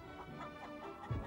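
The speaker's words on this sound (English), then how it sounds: "she squawks and clucks and fidgets and squirms" A hen squawking and clucking in short agitated bursts, fairly faint and muffled, over a low background.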